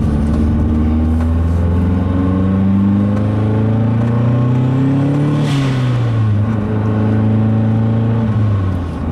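A big-turbo Mazdaspeed 3 engine revs hard and climbs through the gears, its tone rising, dropping at a shift, then rising again, loud and close throughout.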